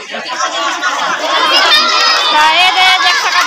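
A dense, noisy crowd at a Janmashtami matki phod pot-breaking celebration, with children shouting and cheering in a continuous loud roar and overlapping chatter.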